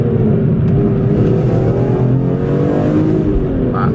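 A BMW E46 M3 with the S54 engine and six-speed manual drones loudly under acceleration, a steady gritty engine note rising gradually inside the car.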